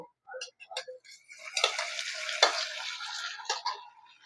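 Chicken pieces for a Filipino chicken curry go into a pan of lightly browned ingredients and get stirred, giving scattered clatters, soft scraping and a brief sizzle, fairly quiet with gaps between sounds.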